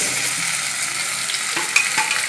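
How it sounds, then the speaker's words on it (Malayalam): Ivy gourd pieces are stirred and fried with onions in a pan, giving a steady close sizzle with a few scraping stirs of the spoon, and no voices. "ഓക്കെ കോവയ്ക്ക് ഇട്ട് നമ്മൾ ഇളക്കി കൊടുക്കും"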